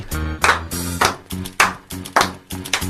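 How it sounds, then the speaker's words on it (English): Sharp hand claps repeat at a steady beat, about six in three seconds, crisp and fairly close over a low droning hum. "Clap in the background, Anthony."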